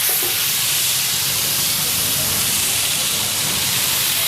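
Garlic paste sizzling in hot oil on a flat pav bhaji tava at a live street-food stall, a loud, steady broadband hiss with no pause throughout.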